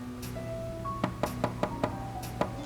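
Six sharp knocks land in a quick irregular series, fairly faint, over a steady low musical drone.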